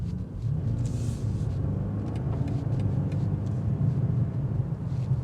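2025 BMW M5 with a twin-turbo V8, heard from inside on a test drive as a steady deep engine and road rumble, loud and continuous, with no talking.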